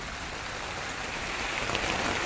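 Steady, heavy rain falls in a dense, even hiss, loud and constant without pause.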